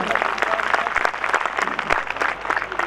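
Audience at a live drama performance at Dera Peer Lakh Data Kadri in Katarian claps enthusiastically, a dense, loud burst of many hands with sharp individual claps standing out, with faint voices underneath.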